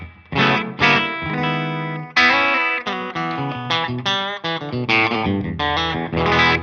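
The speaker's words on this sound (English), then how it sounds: "That's the bridge pickup." Clean-toned Ariel Posens Fender signature electric guitar on the bridge pickup with a touch of slapback, played as a bright, loud run of plucked chords and single notes with short gaps, no voices.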